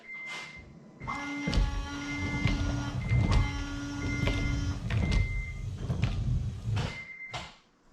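A small electric washer fluid pump motor in a Honda Civic Si runs in short whirring bursts, several on-off cycles with a faint tonal hum, quiet and close, mixed with clunks of handling.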